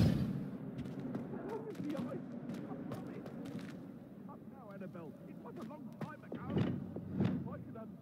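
The Depulso spell is cast in the video game Hogwarts Legacy, producing booming thumps and bursts over a rumbling background while a voice speaks.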